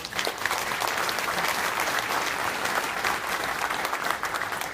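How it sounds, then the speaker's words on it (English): An audience at a business meet-the-buyer event claps in sustained, dense applause, steady and fairly loud throughout with no talk on top. "Let's give them a round of applause."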